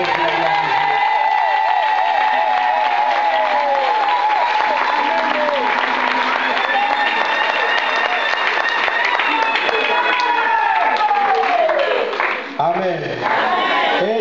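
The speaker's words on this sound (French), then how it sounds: "nous acclamons très fort pour la gloire de Dieu" A church congregation at a Pentecost harvest service applauds and cheers loudly and continuously, with a dense wash of clapping and shouting voices that stays strong throughout before briefly dipping near the end.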